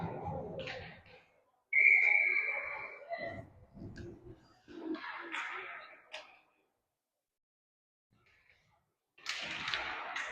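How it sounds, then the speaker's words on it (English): A referee's whistle at a youth ice hockey game gives one sharp, shrill blast that trails off, then arena noise, thuds and scattered voices, with a quiet gap before crowd noise returns. "Now the whistle."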